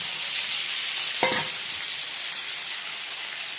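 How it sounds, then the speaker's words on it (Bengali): Mashed teasel gourd (kakrol bhorta) hits lightly oiled hot pan: a short, sharp sizzle burst, then a steady frying hiss with no talking. "এবার এই কাঁকরোল ভর্তাটা দিয়ে দেবো।"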